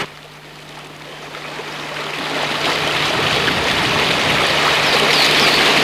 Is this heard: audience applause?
no